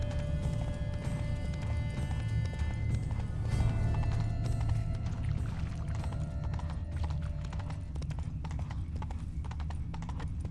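Roach, the horse in The Witcher 3: Blood and Wine, galloping along a road, its hooves pounding in a fast, steady clip-clop close by over game music, with a short whinny mixed in.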